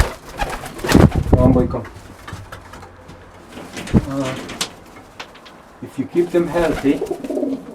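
Pet pigeons or doves coo in soft bursts at close range, while a person talks to the birds between and over the calls.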